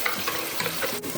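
Blended ginger, onion, scallions and garlic hit hot coconut oil for a stew and sizzle loudly and continuously up close, with a brief sharp clink near the end and no voices.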